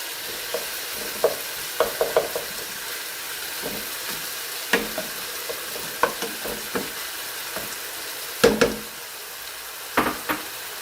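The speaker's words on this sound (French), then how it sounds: "Remuer toujours pendant 30 secondes" Vermicelli with onions and vegetables stirred in a hot pan, a spoon scraping and knocking in irregular bursts over a steady low sizzle of frying, close and alone without any voices.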